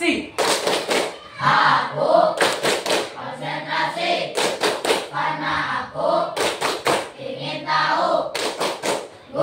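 A school class claps in quick rhythmic bursts, several claps per burst, alternating with voices chanting together between the clapping patterns.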